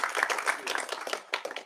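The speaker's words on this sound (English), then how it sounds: "Give just a brief applause for him" Short burst of audience applause at a pitch event, moderately loud and uneven, the clapping rising and falling in loose clusters.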